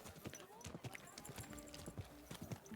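Horse hooves clip-clop in Kingdom Come 2 as the horse moves through a busy town, a quick run of soft, even steps under faint background chatter.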